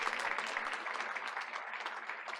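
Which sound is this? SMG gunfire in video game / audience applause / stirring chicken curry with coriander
audience applause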